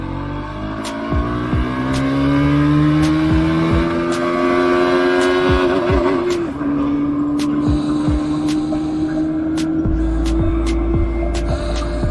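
A KTM Duke 200 motorcycle accelerates hard on a mountain road, its engine note climbing steadily, briefly dipping as it shifts gear, then pulling on loud and close with no voices.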